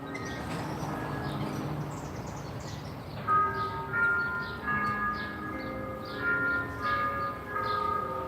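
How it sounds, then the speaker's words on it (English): Church bells of a Catholic church in Baltimore's Little Italy ring out at a distance over steady city ambience, their tolls starting a few seconds in and repeating unevenly. "Hear the church bells?"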